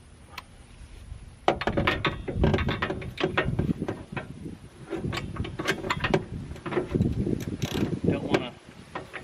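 Ratchet wrench tightening a part on an Onan RV generator, with a rapid run of sharp clicks that repeat in bursts close to the microphone during maintenance.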